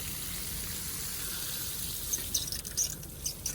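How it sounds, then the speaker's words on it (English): A garden sprinkler sprays water over an oak tree in a spring yard, giving a steady close hiss with a few brief splashy ticks toward the end. "I'm gonna move the sprinkler because yesterday I watered one tree"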